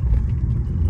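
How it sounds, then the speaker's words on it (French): A 2019 BMW M2 Competition with its 411 hp engine gives a steady, close, loud low rumble, the engine note holding even throughout with no talk. "je vais faire quelques petites accélérations"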